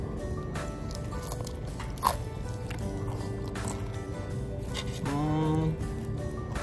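Someone bites into crunchy food and chews close to the microphone, with a few distinct crunches over a constant background hum.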